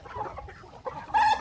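Chickens fighting on a poultry farm cluck in short, repeated bursts, with a louder flurry of agitated calls near the end, close and without any talk.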